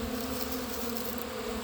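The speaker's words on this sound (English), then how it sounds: "I have very gentle bees" Honeybees buzz steadily and close at a homemade recycled pollen feeder, a continuous drone with no voices over it.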